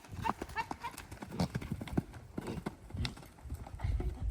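Hooves of a horse at a canter during a riding lesson thud in a steady rhythmic clip-clop on the arena ground, close by, while a rider or instructor speaks intermittently.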